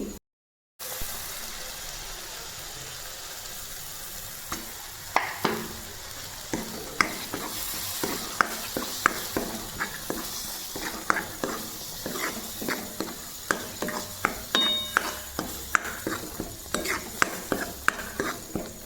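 Coarsely ground kidney beans dropped into masala frying in oil for restaurant-style rajma, a constant sizzle topped by regular, sharp spoon strokes against the pan that grow steadier and louder over time.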